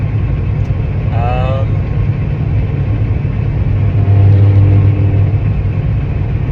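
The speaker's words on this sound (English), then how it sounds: "So I'm driving east on I-90 right now through Washington" A truck heads east on the I-90 highway through Washington, filling the cab with a steady, loud low rumble of engine and road noise. A brief voice-like sound rises early on.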